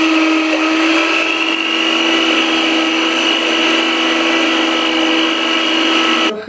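An electric mixer whirs steadily at full power through vanilla cupcake batter, a loud, constant motor hum with a high whine that stops abruptly at the end.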